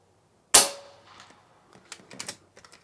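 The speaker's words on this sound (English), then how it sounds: "let's now go and shoot the FX King with the 40 grain Zanes and see how they compare" FX King high-powered airgun firing a 40 grain Zan pellet: one sharp, loud crack followed by a few faint mechanical clicks and rattles.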